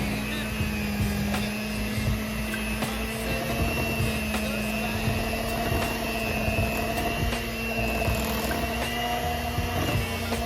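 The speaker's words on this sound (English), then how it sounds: "we're gonna mix in our sugar and beat it until it is light and airy" Electric mixer beating sugar into cream cheese pound cake batter, a steady motor whir with a constant hum and rhythmic scraping taps from the bowl, running close throughout.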